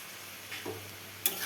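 Greens with turmeric and salt being stirred in a frying pan, a low steady sizzle with a couple of soft scraping strokes and a sharper clink near the end, close and quiet.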